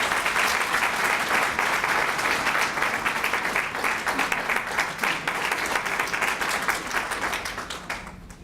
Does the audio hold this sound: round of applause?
yes